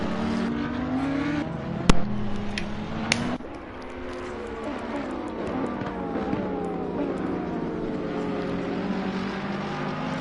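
McLaren race cars run side by side at Donington Park, their engines howling and shifting pitch through gear changes, with sharp clicks early on and a steady roar throughout.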